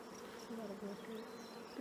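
Honey bees buzz continuously in an open hive being inspected over frames of worker brood, a steady close drone with wavering pitches from individual insects.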